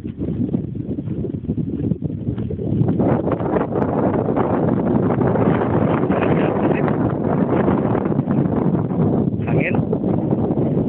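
Strong wind buffets the microphone outdoors over an eggplant field, a loud continuous low rumble and roar with gusts, while a person talks underneath it.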